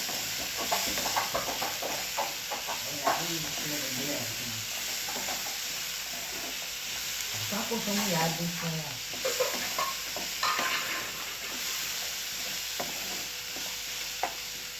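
Ingredients fry quietly in a pan in a home kitchen. A soft, steady sizzle and hiss carries faint intermittent stirring, and a distant voice murmurs at times underneath.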